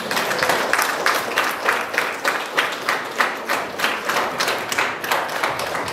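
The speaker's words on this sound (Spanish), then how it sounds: "Otro aplauso para los nuevos esposos." A small group at a wedding Mass claps steadily in a rhythmic beat for the newlyweds, the applause pulsing evenly throughout with no voices.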